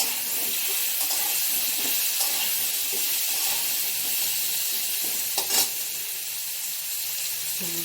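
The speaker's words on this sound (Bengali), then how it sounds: "কুমড়োগুলো এবার দিয়ে দিচ্ছি।" Pumpkin pieces frying in a hot pan, a steady bright sizzle close by with faint stirring scrapes and a brief louder spatter near the end, no talking.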